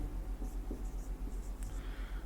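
Chalk or pen strokes as a chemical symbol and numbers are written during a Hindi science lesson on magnesium, soft scratchy marks in short bursts over a steady low hum, faint and close.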